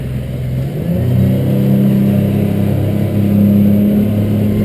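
A Stabicraft 2880 Pilothouse boat running on one outboard motor, its loud, steady low drone rising in pitch and strength after about a second as the throttle opens, then holding a heavy roar.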